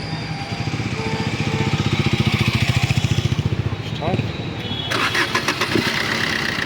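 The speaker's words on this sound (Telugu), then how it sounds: "మళ్ళీ ఇంజిన్ స్టార్ట్ చేస్తాను చూడండి" Diesel engine of a 2016 Maruti Brezza ZDi+ cranks with a steady rhythmic chug, catches and settles into a close, loud idle after a single start.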